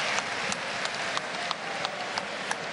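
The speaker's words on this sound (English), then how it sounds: "Good round of applause from the German crowds." Crowd at a boxing match in Germany applauding between exchanges, a dense steady wash of clapping with a few sharper peaks, loud and continuous without speech.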